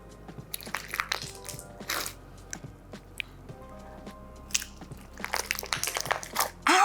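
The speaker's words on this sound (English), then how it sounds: "this slime is getting super crunchy actually, but it's also starting to hurt my hands. It does make some unique crunch noises." Crunchy slime packed with charms and many added ingredients is squeezed by hand, giving repeated sharp crackling crunches and squishy pops in irregular bursts, close and fairly loud, with no talking.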